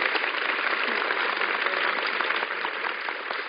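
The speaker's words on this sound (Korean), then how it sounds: "멘토께 뜨거운 박수 부탁드립니다" A talk concert audience gives a mentor warm applause, a thick, continuous burst of clapping that stays strong and then eases slightly toward the end.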